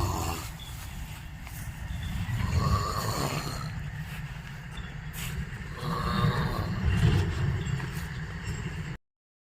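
A man snores while asleep in a rural village setting, a rough, rhythmic rasp repeating in slow breaths, fairly close and moderately loud, with no talking over it.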